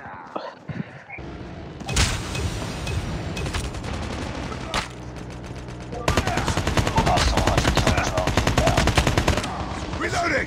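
Automatic gunfire from a sentry gun in the mobile shooter Call of Duty Mobile, with sustained rapid bursts and sharp shots, a loud, dense stretch of continuous fire toward the end, mixed with faint game voice lines.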